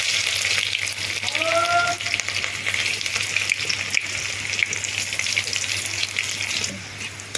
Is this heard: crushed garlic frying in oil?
yes